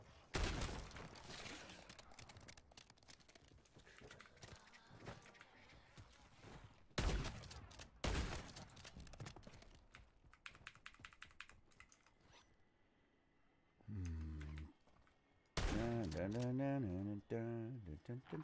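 Rapid bursts of gunfire in a zombies video game, with clicking keyboard typing running through and talk in places, then a few louder shots near the end.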